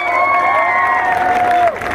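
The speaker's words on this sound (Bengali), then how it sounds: "এই যে আমাদের জামাই, জামার জন্য একবার জোরে হাততালি হোক।" Loud cheering and applause from a crowd at a family celebration, honouring a son-in-law, with whoops and sustained voices for about two seconds before a brief dip.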